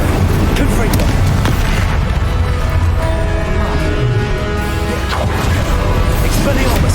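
Spell blasts and explosions crash and boom continuously in Hogwarts Legacy combat, loud dense bursts layered over a busy game soundscape with shouted incantation voices.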